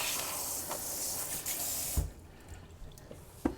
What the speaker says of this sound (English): We'll rinse it off.